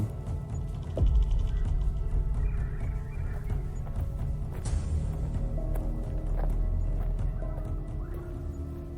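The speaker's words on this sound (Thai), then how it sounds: "เสียงย่ำเท้าของเหล่าบรรดานักผจญป่า" Heavy trudging footsteps of adventurers pushing through jungle undergrowth, a steady plodding thump with rustling, set in a dense ambient bed, loud and close, no talk.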